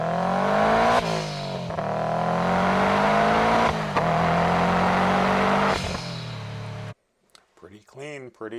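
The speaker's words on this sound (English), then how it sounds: "This was a no lift shift from second to third." Turbocharged car accelerating hard with a no-lift shift from second to third, engine pitch climbing in repeated sweeps between gear changes, loud and close from inside, then cut off as a voice begins talking.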